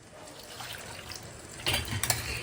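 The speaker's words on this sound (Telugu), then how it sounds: "ఇప్పుడు ఇది ఉడకడానికి సరిపడా నీళ్లు పోయాలి" Water is poured into a pot of dal cooking for a South Indian vegetarian thali, a soft trickling splash that grows a little louder partway through.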